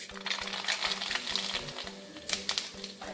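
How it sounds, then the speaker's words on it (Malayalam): Mustard seeds drop into hot coconut oil in a pan and begin to sizzle and pop. Sharp little crackles and ticks sound up close over a steady frying hiss, with a couple of louder pops near the end. "ഇതിലേക്ക് നമുക്ക് കടുക് ഇട്ട് കൊടുക്കാം."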